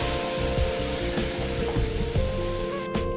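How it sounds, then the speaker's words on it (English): Gravy goes into a pan of hot oil for paneer makhanwala. A loud, close hiss and bubbling sizzle is broken by rhythmic scraping strokes as it is stirred, and a sharp clatter comes near the end. "Now the oil is hot. I'm going to transfer this gravy into the pan."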